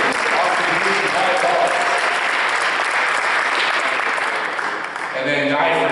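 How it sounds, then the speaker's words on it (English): An audience at a high school football awards ceremony claps loudly for the senior linemen, a thick, sustained roar of hands with a few voices and cheers showing through near the end. "let's give a big round of applause for these big seniors"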